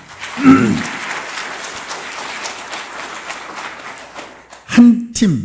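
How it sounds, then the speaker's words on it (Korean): Audience applause fills a hall during a religious reading gathering, a steady rain-like wash of clapping that holds for several seconds between short bursts of someone speaking at the start and end. "박수 한번 해주십시오."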